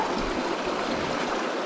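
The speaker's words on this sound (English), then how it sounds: "that was an awesomely beautiful little creek" A small mountain creek runs shallow and steep over rocks, giving a steady, close rush of flowing water with no voices.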